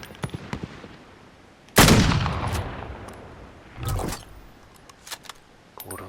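Gunfire in the video game Call of Duty: Warzone: a loud, sharp shot rings out and decays, a second, softer report follows, and faint clicks sit between them.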